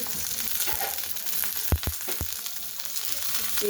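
Onion fries in a little oil in a pan, making a continuous soft sizzle broken by a few sharp clicks of a spoon against the pan near the middle, with no talk.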